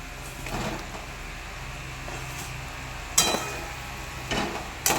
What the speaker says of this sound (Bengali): এবার তেল ছাড়তে শুরু করলে এর মধ্যে ভেজে রাখা আলুগুলো আমি দিয়ে দেবো